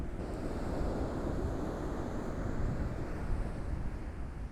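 Steady, heavy wind buffeting the microphone, a constant low roar with gusts and no voices.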